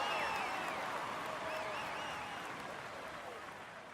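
A crowd applauds and cheers in a sustained wash of clapping in the video game Tour de France 2019 on PS4, with faint whistles and voices mixed in, gradually fading quieter.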